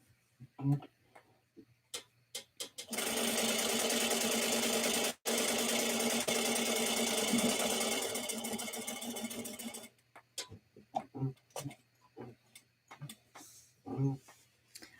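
A sewing machine stitching a bucket bag, first a few short taps, then a loud steady whir for several seconds with one brief break, followed by more scattered ticks and short bursts as the sewing stops and starts.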